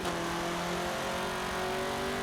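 Slow off-road buggy in Forza Motorsport 7 revving hard, a loud, close engine note with rising harmonic tones as it accelerates steadily, without any talk.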